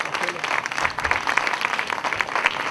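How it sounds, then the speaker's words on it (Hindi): Loud, dense applause from a church congregation during a sermon by Bishop James Paul, steady clapping filling the whole stretch with a murmur of voices underneath. "जोरदार तालियों में बिशप जेम्स पॉल।"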